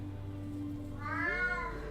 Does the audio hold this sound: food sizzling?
no